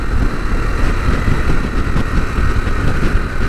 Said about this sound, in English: Guy out on his tractor.